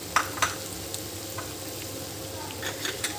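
Chicken karahi sizzles on high heat while a utensil stirs it, giving a constant frying hiss broken by sharp clicks and scrapes against the pan.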